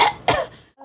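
A young child coughs twice in quick succession, close and fairly loud, followed by a short pause and a faint trailing sound.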